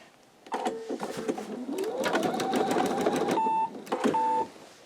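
An embroidery sewing machine stitches a quilt held in a magnetic hoop, giving quick mechanical clatters and a rising motor whir, then brief steady electronic beeps near the end, close by.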